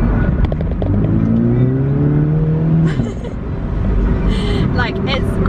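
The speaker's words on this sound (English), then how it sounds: "can you hear the engine?" A new black Mini car's engine revs and accelerates loudly and close, a rising drone that rolls steadily on with no voices over it.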